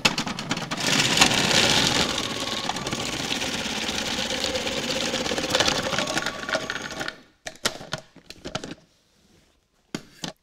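Food processor fitted with a coarse grating disc shredding carrots, a loud continuous whirring grind for about seven seconds that cuts off, followed by a few faint clicks and knocks.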